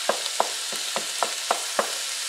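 Ground turkey sautéing in a pan, with a steady sizzle and frying hiss plus regular scraping stir strokes about every third of a second, close and moderately loud, no voices.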